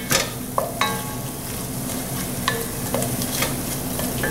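Pre-minced garlic is stirred into a hot frying pan, giving a close, steady sizzle with a few sharp utensil clicks and scrapes against the pan.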